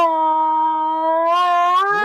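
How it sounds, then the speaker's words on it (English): A puppy howls along with passing fire department sirens, a sustained, steady, wavering tone that rises and breaks into yips near the end, loud and close with no talking. "That's the puppy. She doesn't like sirens."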